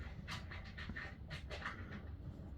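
A dog pants in quick, steady breaths while playing outdoors at a desert RV campsite near Quartzsite, Arizona, the breathing close and continuous with no talk.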